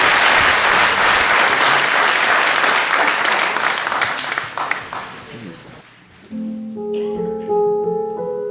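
Festival audience breaking into loud, sustained applause that fills the room and fades after several seconds, giving way to a few voices and tonal music-like sounds.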